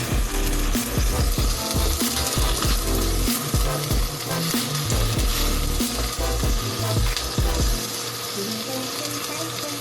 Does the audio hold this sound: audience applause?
no